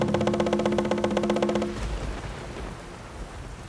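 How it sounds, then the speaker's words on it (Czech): A stormy night with heavy rain pouring down, a rumbling low roar beneath a steady wash of rainfall that follows a brief rhythmic patter at the start. "Jedné bouřlivé noci, že by ani psa nevyhnal."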